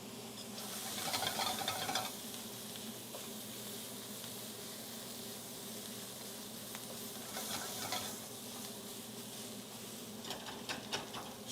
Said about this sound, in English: Stir that pot.